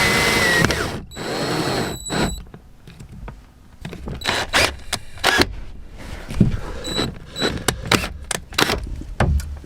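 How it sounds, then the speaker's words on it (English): Power drill with a 19mm hole saw bit running in short bursts with pauses between, the motor whining and grinding close by, with rattling and clicks of handling, inside a Citroen Relay camper van. "drill up with this 19mm hole saw bit"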